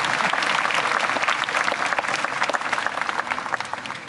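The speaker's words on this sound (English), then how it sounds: "Round of applause for the beautiful Ormore leopard there." Audience applause at a SeaWorld animal show after a leopard appearance, dense steady clapping from a large crowd throughout, easing slightly toward the end.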